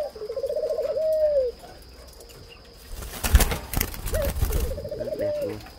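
Spotted doves cooing nearby, a rhythmic rolling coo at the start and another near the end, with a brief flurry of wing flaps and rustling in between.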